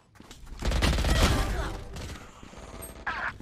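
A rapid spray of automatic gunfire in Valorant rattles loudly for about a second and a half, then fades into a brief crackle while a player's voice briefly cuts in.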